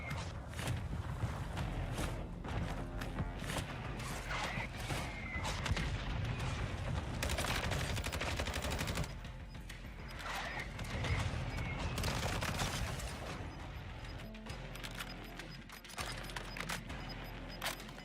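Mortar strike explosions in the battle royale video game Warzone 2.0 in a desert setting, dense bursts of blasts and crackling impacts rolling through, a brief lull, then more thumping detonations and debris.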